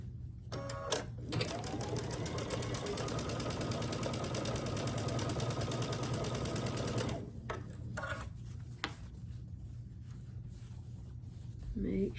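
A sewing machine stitches quilt block fabric in a steady rapid whir lasting several seconds, then stops; brief handling noises and faint talk surround it.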